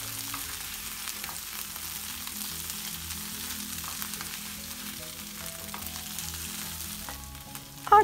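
Oyster mushrooms sizzle and crackle steadily in a hot pan, a quiet constant frying hiss with a brief clatter at the end.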